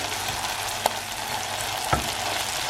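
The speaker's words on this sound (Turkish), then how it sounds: "Salça ve sarımsağı da koydum. Bunu güzelce kavuracağım." Onion, tomato paste and garlic sauté in a hot pan for a Turkish purslane stew, a steady close sizzle broken by two brief clinks of a spoon against the pan.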